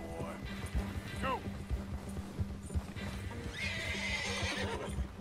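A horse in Red Dead Redemption 2 galloping with rhythmic thudding hoofbeats and a shrill neigh, alongside game music and background sounds.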